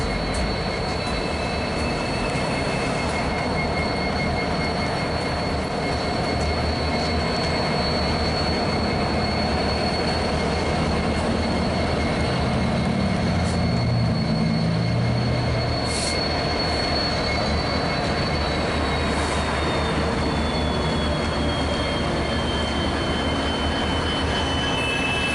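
A freight train hauled by a pair of EMD locomotives rolls steadily past on a Chicago-area mainline with a continuous rumble of wheels on rails and occasional high wheel squeals.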